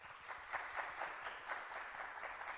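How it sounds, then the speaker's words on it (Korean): A church congregation applauds during a service, a soft, steady wash of many hands clapping at moderate distance, fairly faint and uniform throughout. "박수 한번 칠게요."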